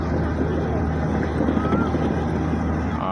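A steady low droning engine rumble of the Hijli passenger launch boat, constant and close, mixed with wind buffeting and faint background voices.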